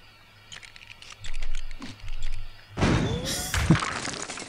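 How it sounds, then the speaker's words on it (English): A cannon smashes through a wall in LEGO Minifigures Online, heard as a loud crashing burst of breaking debris and thuds after a few quieter tapping clicks and thumps. "Build cannon to smash the wall."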